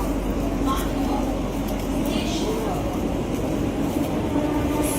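A train runs through Kolkata, its carriages giving a steady, close, continuous rumble and rattle throughout with no break.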